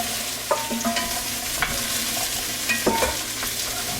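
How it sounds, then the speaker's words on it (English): Carrots and garlic tossed into a hot soup pot, sizzling steadily while a spoon scrapes and clatters against the pot in irregular stirring strokes, close and clear with no talking. "So, to the pot you want to add your carrots and your garlic."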